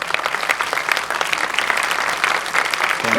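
A crowd at a filmmaking masterclass breaks into brisk, dense applause, a lively continuous clapping that holds steady for a few seconds.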